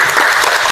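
Students in an informatics classroom break into brief, loud clapping together, a close, dense burst of hands lasting under a second.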